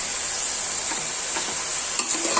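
Chilies and bitter gourd fry in a pan under a bright, constant sizzle, broken by a few clinks and scrapes of stirring toward the end. No voices.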